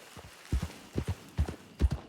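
Horse hooves clip-clop in the Red Dead roleplay game, a steady, fairly faint walking rhythm of paired thuds repeating several times, with no talk over them.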